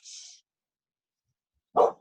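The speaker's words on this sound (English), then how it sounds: "Sorry, the dogs." A single dog gives one sharp, fairly close bark after a brief high-pitched sound and a stretch of silence, heard faintly in the background of a call.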